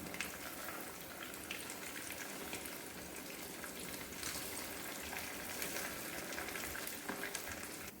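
Veg cutlets frying in a pan give a steady, even sizzle with crackling oil throughout, close and continuous with no talking.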